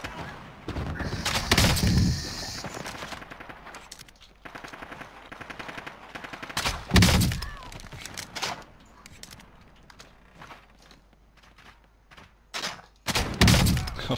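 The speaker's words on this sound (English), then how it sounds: "Ooh, crossbow." Crossbow shots ring out in Call of Duty Modern Warfare multiplayer, several sharp loud bursts spaced a few seconds apart over quieter game ambience.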